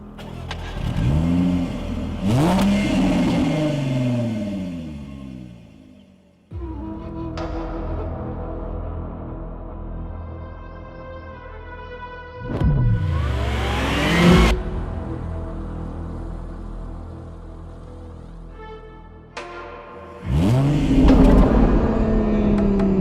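Jaguar XF sedan driving with its engine revving in repeated loud surges, each climbing in pitch through gear changes and dropping off, with steady road rumble between the pulls.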